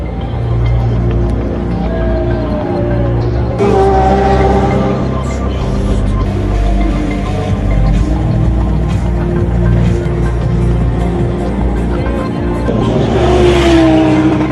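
Race cars at night on the Nürburgring Nordschleife during the 24-hour race, including Renault Clio II Cup cars, roar past steadily with high revving engines, gear shifts and passing swells, loud and continuous throughout.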